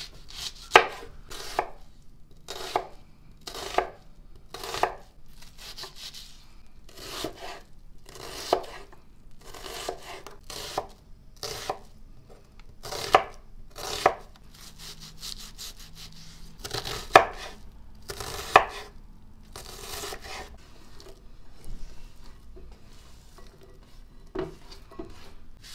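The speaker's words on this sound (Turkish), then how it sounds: "Şimdi soğanımızı doğruyoruz." Knife chopping an onion on a cutting board, a long run of sharp, evenly spaced chops heard close, sometimes in quick pairs, with no talk.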